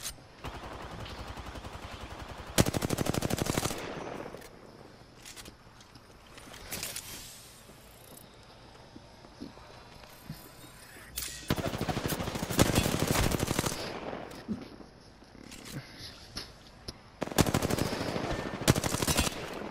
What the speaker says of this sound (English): He's literally right next to you and he's shooting me.